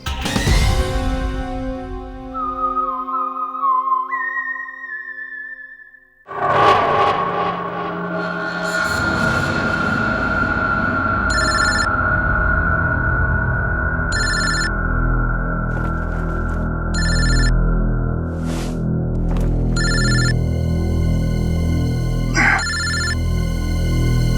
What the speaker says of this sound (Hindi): दयासर का फोन, ये देखो।